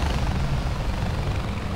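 A helicopter flying in Far Cry 4, a dense, loud rotor roar held steady and close throughout, with no voices.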